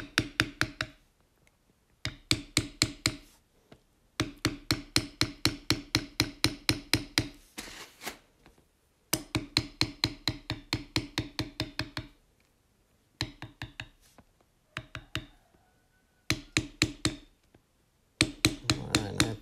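A mallet strikes a beveler while tooling a leather belt, producing sharp, rapid taps in quick rhythmic runs of about a dozen strikes each, separated by short pauses, close and fairly loud.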